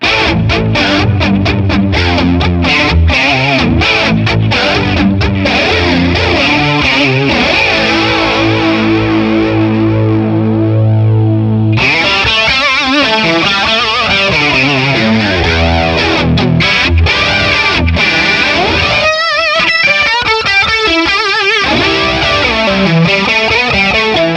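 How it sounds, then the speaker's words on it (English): Electric guitar run through a flanger effect in overdrive mode on a TONEX FX pedal, a loud saturated riff with sweeping, jet-like whooshing swirls, sustained chords and choppy strummed passages, with no voices. "let's see how the flanger sounds"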